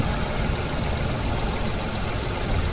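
A Tata Punch car engine idling with the air conditioning switched on, a loud steady rumbling drone with constant vibration and no change in pitch, heard from inside the car with no voices.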